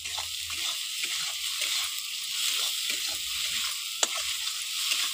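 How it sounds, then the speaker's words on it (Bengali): Chopped tomatoes with salt frying in a pan for dhaba-style tadka roti, giving a steady close sizzle with scattered stirring scrapes and one sharp clink near the end. "এবার এখানে আমি দিয়ে দেবো টমেটো কুচি।"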